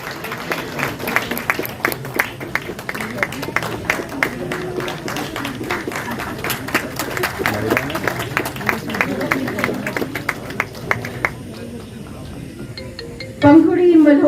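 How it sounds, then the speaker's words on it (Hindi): Applause from the audience at a Samvedna Society awards function, with scattered sharp claps through the crowd, murmured talk underneath and a louder burst near the end. "So जोरदार तालियां for my dear Myra"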